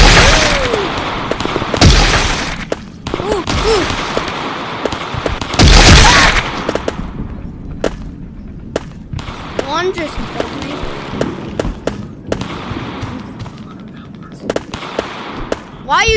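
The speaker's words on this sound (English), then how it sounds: "Why are you shooting me?" Video game gunfire, a loud string of booming shots and bursts at varied intervals with some echoing tails, heard alongside game sound effects.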